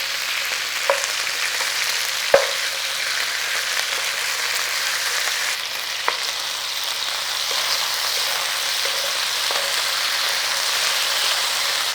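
Meat sears in a hot pan as a steady, rain-like sizzle that holds for about twelve seconds, broken by a few faint clicks and taps as pieces are turned over.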